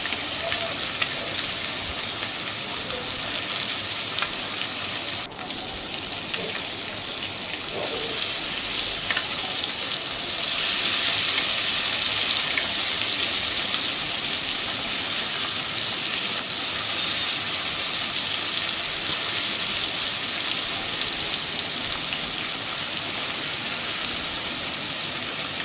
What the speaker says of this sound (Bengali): মাছগুলো সব তেলের মধ্যে দিয়ে দেওয়া হয়ে গেছে, এবার আমি ভালো করে এপিট ওপিট করে ভেজে নেব।